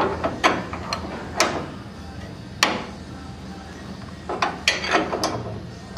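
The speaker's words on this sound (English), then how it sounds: "So he'll hold that while I tighten the lock nut down." A lock nut is tightened on an adjustable strut rod in a garage: a handful of sharp metallic clicks and clanks at irregular intervals, close by, over low background noise.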